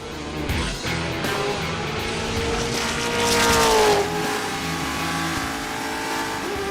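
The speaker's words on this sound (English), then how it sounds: "We're driving race cars at 160 miles an hour, like inches away from each other." Race cars tear along at about 160 miles an hour, inches apart; a loud, high engine roar rises and sweeps past at close range, with no talk over it.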